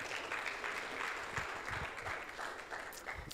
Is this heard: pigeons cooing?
no